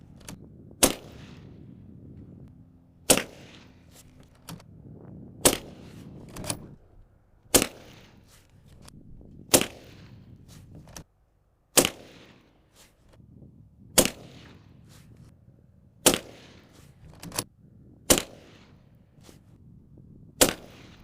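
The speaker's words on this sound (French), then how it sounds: "3810 LV, premier tir." Gunshots hit an ESCO 3810 LV bulletproof vest plate, about ten sharp, loud single reports spaced every two seconds or so against a quiet background.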